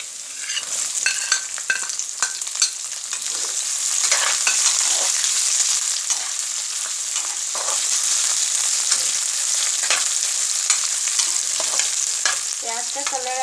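Onions frying in a pan, a steady close sizzle with scattered crackles and occasional scrapes of stirring, continuous throughout with no talking.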